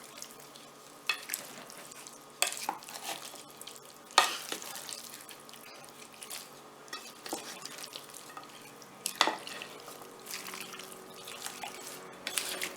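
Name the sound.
mixing oil and green seasoning into raw chicken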